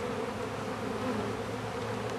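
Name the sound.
honey bees buzzing in an emptied package bee box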